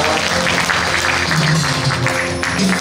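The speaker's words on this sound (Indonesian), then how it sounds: "kita berikan tepuk tangan ya" Applause from a church congregation at a Sunday service, a dense steady patter of many hands clapping throughout, fairly loud and continuous with no talk over it.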